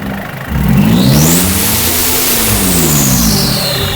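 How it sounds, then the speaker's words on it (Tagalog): A big engine with a damaged transmission and turbo and leaking oil revs hard at full throttle, pitch climbing to a sustained roar then easing slightly, loud and close with a rough, throaty rumble throughout. "kapag ganitong kalalaking makina at talagang i-revolution mo ng todo"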